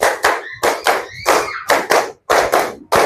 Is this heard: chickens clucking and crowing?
no